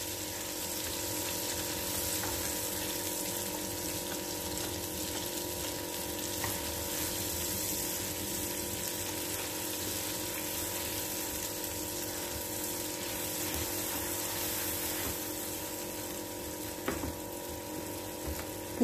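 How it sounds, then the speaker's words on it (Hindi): Ground lentils fry in ghee for jaggery puran puri, a faint, even sizzle that runs unbroken with a low mechanical hum and an occasional light click. "घी में अपन भून ले रहे पहले दाल को"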